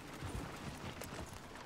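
Horse hooves clip-clopping in the Red Dead Redemption 2 video game, a loose, uneven patter of steps at moderate loudness over a steady background bed.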